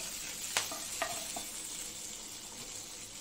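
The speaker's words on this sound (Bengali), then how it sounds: "চিংড়ি মাছ ভাজার তেলে আমি এটা আবার ফোড়ন দিচ্ছি" Spices tempered in leftover prawn-frying oil for a Bengali prawn malai curry, a steady quiet sizzle with a few sharp clinks of a utensil against the pan early on.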